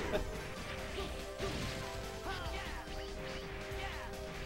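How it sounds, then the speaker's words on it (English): Heavy game doors slam shut with a booming crash over a steady, droning musical background. "Those closing doors are pretty neat. I like the sound effect for that."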